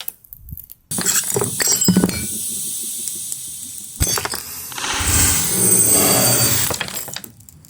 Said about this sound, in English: I accidentally chipped my glass here, so we may as well feed it to the beast.